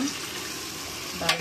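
Chicken gravy is fried in a pan as a steady, close sizzle that runs throughout, with a brief scrape of stirring near the end and no talk.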